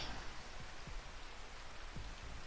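Steady rain falling in the video game Rimworld, a continuous soft hiss of drops with a few faint low thumps, quiet and even throughout, with no voices.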